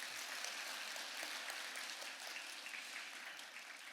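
Audience applause for a performing artist at a campus carbon-neutrality contest presentation, a soft, dense, continuous patter of many hands that stays even throughout and fades slightly at the end.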